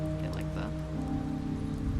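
Steady rain drums in The Wolf Among Us game as characters ride in the back of a truck, a dense constant hiss with a low rumble, while faint voices briefly sound underneath.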